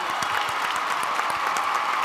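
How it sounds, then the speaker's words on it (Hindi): Audience at a Bhojpuri stage show bursts into dense, steady applause, a continuous wash of clapping hands with a few sharper claps standing out, sustained and fairly close for the full two seconds. "एक जोरदार तालियां दोस्तों बप्पी जी के लिए।"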